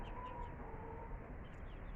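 Soft, low clucking from chickens in a coop, faint and close, with a steady murmur of fowl sounds and no talking.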